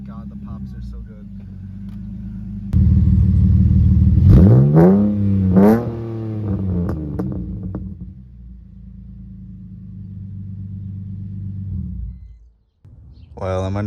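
A BMW engine, not yet fully warm, revs up in a few rising and falling sweeps, with crackling exhaust pops between revs, then settles back to a steady idle before briefly cutting out.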